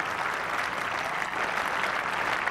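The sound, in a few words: cricket crowd applauding a dismissed batsman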